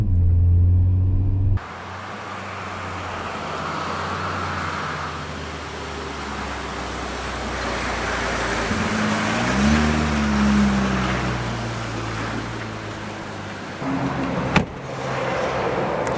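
An INEOS Quartermaster with a 3-litre turbo engine runs under load during a tow test, a steady rumbling drone that swells and shifts as it revs, with a sharp knock near the end and no voices.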